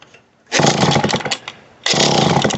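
A McCulloch 35 chainsaw with a 16-inch bar and chain, needing carburetor work and idling poorly, catches and roars loudly for about a second, cuts out, then fires up again close by.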